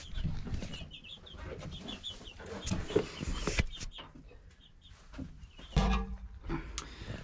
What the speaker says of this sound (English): It's time to get the chickens.